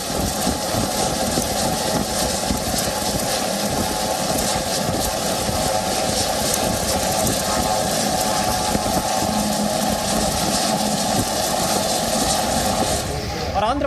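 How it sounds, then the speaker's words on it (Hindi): Navy helicopters flying a flood rescue operation give a steady, loud engine and rotor drone that runs unbroken for the whole stretch, with a rough, whining texture and no voices heard. "नौसेना के हेलीकॉप्टरों ने बाढ़ में फंसे लोगों का रेस्क्यू किया है।"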